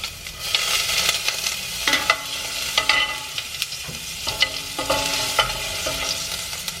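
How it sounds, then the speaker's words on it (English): Garlic fries in two tablespoons of sunflower oil over medium heat, giving a steady close sizzle broken by repeated stirring clinks and scrapes. "2 tablespoons of sunflower oil on a medium heat, and then the garlic first."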